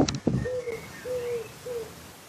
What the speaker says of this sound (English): Wood pigeons can be funny, if not a bit domineering in your garden.